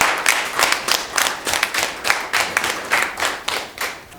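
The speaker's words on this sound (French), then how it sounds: "Je voudrais que vous puissiez acclamer." An audience at an awards ceremony, the Camp d'excellence, claps steadily in rhythmic bursts, the applause dense and fairly close, with no voices over it.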